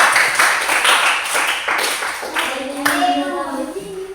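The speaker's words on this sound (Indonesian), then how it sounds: "Berikan aplaus untuk kelompok 2." A classroom group claps for a student group, with a quick burst of scattered hand claps that fades out over a few seconds as children's voices and a teacher's voice continue underneath.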